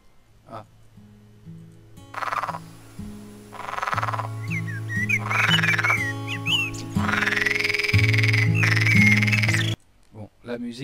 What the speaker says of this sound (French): Là, j'ai mes sons de grenouilles.